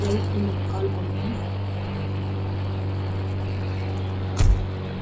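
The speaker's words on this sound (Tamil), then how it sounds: "ஃப்ளைட் வந்துச்சு" A propeller aircraft arriving in an Indian bike video game gives a steady, loud droning hum throughout, with a brief thump near the end.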